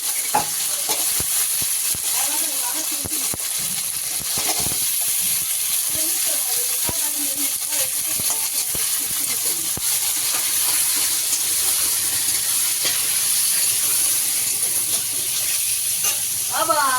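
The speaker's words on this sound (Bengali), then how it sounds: "এই আলুগুলোকে লাল লাল করে ভেজে নেবো নুন হলুদ দিয়ে" Potatoes frying in a pan with salt and turmeric give off a steady, loud sizzle throughout, with scattered clicks and scrapes and faint voice-like sounds in the background.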